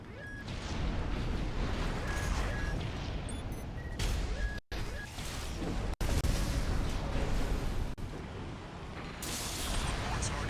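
Gunfire and explosions in the mech game Armored Core VI, with dense continuous bursts of shots and booms at loud level, broken by brief dropouts, mixed with game voices and electronic tones.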